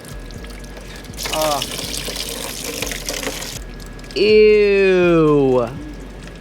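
Washer fluid from a BMW E91 328xi pours and splashes out during a windshield washer pump replacement, a steady close-up gush under brief voices, joined midway by a loud rising-and-falling whine.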